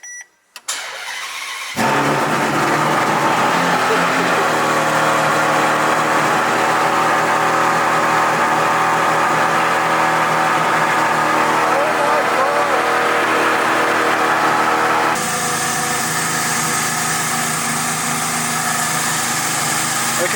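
A Ferrari Enzo cold start: a brief click and crank catch into a loud, steady high-revving engine roar that holds for many seconds, then settles into a slightly changed, still loud idle.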